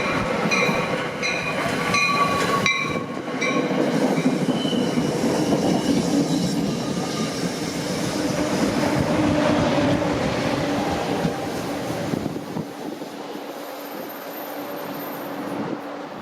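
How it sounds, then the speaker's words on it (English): An eastbound passenger train powered by an ALP-45 locomotive rumbles past close by, wheels clacking and squealing on the rails, the roar fading gradually as it moves away. "The next train to come by is an eastbound deadhead move powered by yet another ALP 45"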